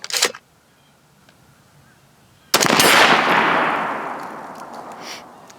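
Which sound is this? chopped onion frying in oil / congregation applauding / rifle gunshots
rifle gunshots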